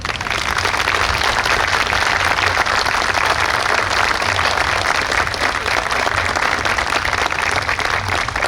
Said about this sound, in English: we think it's those guys that deserve a real round of applause this afternoon